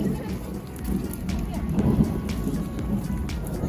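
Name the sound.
heavy rain falling outside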